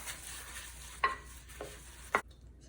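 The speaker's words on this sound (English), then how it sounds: "Then I'm just going to start stirring it up." Wet torn paper scraps and water stirred in a mixing bowl, three distinct scraping, sloshing strokes over a quiet wet background, the last one ending abruptly.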